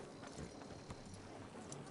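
Horse hooves clip-clopping at a steady walking pace in Red Dead Redemption 2, a soft, close rhythmic clatter with no voices.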